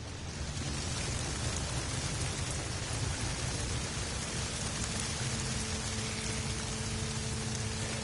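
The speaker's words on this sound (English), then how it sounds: "it sounds as if it's raining" Steady rain pours without pause in the video game No Man's Sky, a dense, even hiss that stays at one level throughout, with no voices over it.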